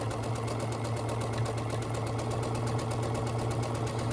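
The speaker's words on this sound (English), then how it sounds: "I'm going to sew it again with the needle over a little bit further" A sewing machine runs steadily, stitching a quarter-inch seam in fabric with a continuous rapid mechanical hum and needle rhythm, close and alone.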